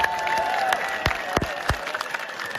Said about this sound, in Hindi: खुद ताली बजा लो अपने हाथों से।